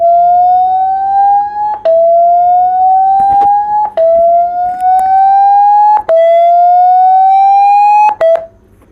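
A phone speaker at maximum volume playing a dust-cleaning tone: a loud, piercing electronic tone that glides slowly upward in pitch, then snaps back and repeats in roughly two-second cycles.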